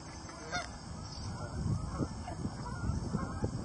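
Swans honk outdoors on a cold winter day, a scatter of moderately distant calls over a steady background hum.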